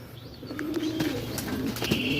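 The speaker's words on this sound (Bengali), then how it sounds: "তো অনেক কবুতরই এখানে আছে, অনেক দেশের অনেক রকম কবুতর" Pigeons of many breeds cooing in a pigeon collection, a low soft coo repeating close by with a few brief chirps over a steady background hum.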